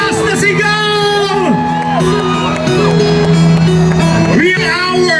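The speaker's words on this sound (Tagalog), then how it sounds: "Isang malakas na sigaw!" A large crowd at a political rally in Davao shouts and cheers loudly, rising whoops and yells overlapping in a sustained roar.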